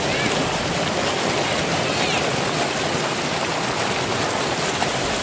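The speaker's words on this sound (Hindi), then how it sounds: "बहुत खूबसूरत नदी बहती है just listen to the sound" A river in Butapathri, Kashmir, flows in a dense, constant rushing roar, loud and close, with no clear speech over it.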